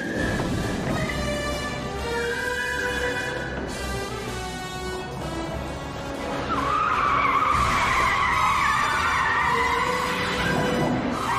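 A car is driven hard with its tires skidding and squealing, long wavering screeches over engine noise that swell louder partway through, with no speech.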